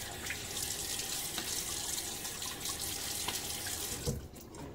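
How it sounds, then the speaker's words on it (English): Water runs steadily from a bathroom sink tap, with a soft splash near the end as a man's face is rinsed before shaving; quiet, close and alone. "So put a little splash of water on my face."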